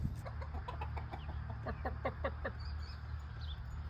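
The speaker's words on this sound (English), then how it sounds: "Lots of chickens." A flock of chickens clucks in a backyard setting, a string of quick, close, overlapping clucks and chatter over a low steady background hum, fading into quieter calls toward the end.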